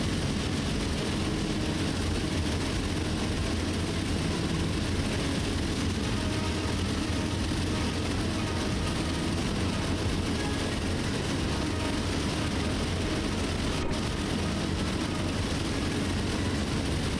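A heavy freight train braking on Horseshoe Curve in the Train Sim World 2 video game gives a steady loud broadband rumble and hiss that holds unbroken throughout, with no talk.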